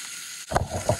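A tench fish fillet hits a hot pan, and after a brief quiet moment a short burst of close sizzling and crackling starts up.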